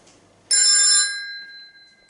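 An old telephone on a PABX landline gives a single bright electric bell ring that lasts about half a second and then rings out and fades, loud and close in a quiet room.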